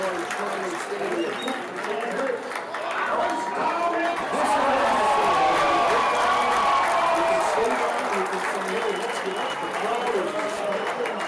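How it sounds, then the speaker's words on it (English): A crowd at Lloyd Shirley Stadium roars and applauds at a high school football game as a play crosses the 20-yard line, swelling loudly mid-stretch, with voices talking over the cheering. "the crowd comes alive here at Lloyd Shirley Stadium"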